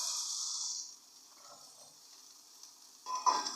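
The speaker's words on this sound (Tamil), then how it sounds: "நம்ம வெட்டி வச்ச கேரட்டு போடுவோம்." Chopped carrot sizzles in a hot pan, a bright frying hiss that fades down to a low crackle, then flares up again near the end with a stirring scrape, close and unaccompanied by talk.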